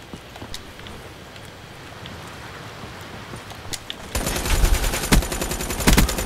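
Gunfire in the video game Black Ops 3 starts with faint distant shots and quiet steps, then breaks into loud, rapid automatic bursts close by for the last two seconds.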